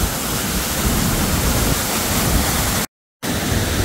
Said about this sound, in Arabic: ما زلنا في شلال جوان في بلدة جوان السويسرية الجميلة